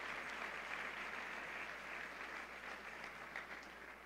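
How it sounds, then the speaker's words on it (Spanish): Steady applause from a church congregation at a Catholic Mass, a dense wash of many hands clapping together, fairly loud and sustained evenly for several seconds with no voices over it. "Dale un fuerte aplauso al Señor y Salvador Jesucristo."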